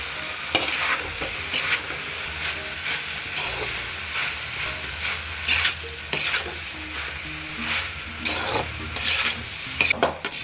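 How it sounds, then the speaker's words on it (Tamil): Cooked basmati rice stir-fried with cauliflower for gobi fried rice sizzles in a pan, broken by repeated scraping and clattering strokes of a spoon at an irregular pace, close and without talk. "இப்போது வடித்து வச்ச பாஸ்மதி ரைஸை போட்டுக்கலாம்."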